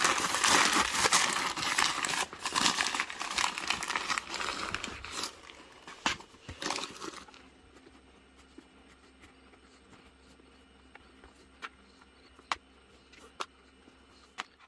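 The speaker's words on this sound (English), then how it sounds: "I'm just going to be using some recycled paper." Recycled paper is crumpled and stuffed into a matte black leather Diesel moto boot, with dense close crinkling for about seven seconds before it fades to sparse soft rustles and taps.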